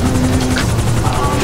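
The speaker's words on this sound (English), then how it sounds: "Kill that helicopter." Police helicopter in Grand Theft Auto 5, a loud steady rotor thump and turbine drone filling the whole short stretch, close and continuous with no other sounds on top.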